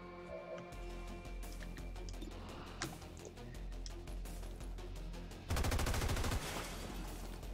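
Gunfire in XCOM 2: War of the Chosen with the Long War 2 mod, a steady run of sharp shots over game music, then a louder rapid burst near the end.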